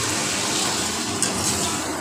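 Hot water is poured into a pan of well-fried masala for a radish and prawn curry, giving a continuous close splashing gush that runs the whole short moment.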